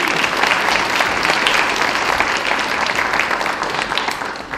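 Audience applause at a school fashion show, loud and sustained clapping from a crowd that holds steady and only starts to fade at the very end.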